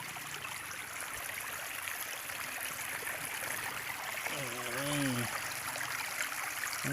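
A stream at Khao Kradong in Buriram runs over rocks with a small waterfall, giving a steady broadband rush throughout; a brief voice breaks in near the end.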